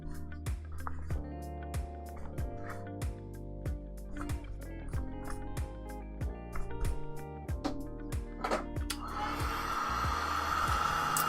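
A hair dryer blows steadily to dry paint and gesso on an art piece, its broadband whoosh growing louder and brighter near the end, with music playing underneath throughout.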